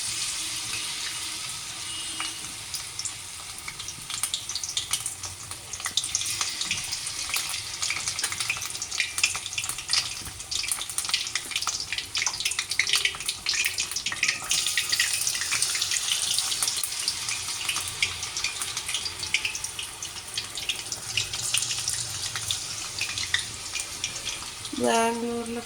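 Spring onions rinsed under a running kitchen tap, a steady broadband rush of water splashing continuously throughout, with faint scattered clatter and no talk over it.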